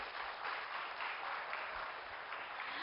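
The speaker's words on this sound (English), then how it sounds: "Let's have a huge round of applause for him." A crowd at a Web3 conference event in Delhi applauds a speaker, giving steady, moderately faint clapping from many hands that pulses gently and continues without pause.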